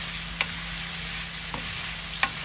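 Potatoes sautéing in a pan with a steady low sizzle, and a few sharp clinks of a utensil stirring against the pan.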